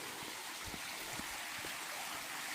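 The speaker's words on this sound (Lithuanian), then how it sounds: "Čia toks krioklys." Small waterfall splashing inside a rocky grotto at Aphrodite's Baths in Cyprus: a steady, moderately faint rush of falling water with a few soft gurgles, heard alone with no voices.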